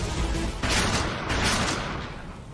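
Gunfire in a dubbed anime fight scene, a dense burst of sharp blasts crashing loudly over a rumbling background, with a second surge a moment later and no talk.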